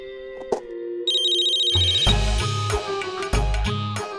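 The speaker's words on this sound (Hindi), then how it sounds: "इतना टाइम क्यों लगा फोन उठाने में?" A telephone rings loudly and alone in an indoor setting, beginning with a tone and moving into a repeating electronic ringtone melody with steady pulsing bursts over a deep beat.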